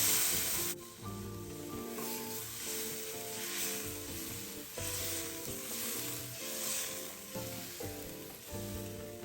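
Pork ribs stir-frying in a wok for a home-style braise with potatoes, giving a steady crackling sizzle with scraping stirs throughout, under background music.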